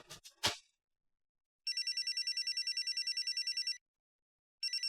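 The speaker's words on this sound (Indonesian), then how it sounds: "Ini handphone si Ucup." A mobile phone rings with a bright, repeating electronic ringtone, a long burst of rapid pulsed tones followed by a pause and the start of another, clear and close.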